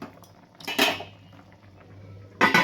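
Dishes and cutlery clatter as lunch is served at home, two sharp bursts of clinking plates and utensils close by, separated by a quieter pause with a low hum beneath.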